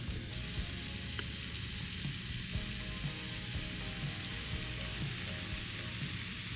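Shrimp stir fry sizzling steadily in a pan, a continuous close crackle of frying with light clinks and stirring scrapes, no talking.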